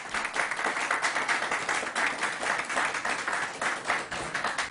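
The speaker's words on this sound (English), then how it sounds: "Let's give the mayor a round of applause." Crowd applause for a city mayor at a state governor's COVID-19 briefing in Buffalo, a steady wash of many hands clapping at moderate volume, sustained for several seconds with no talk over it.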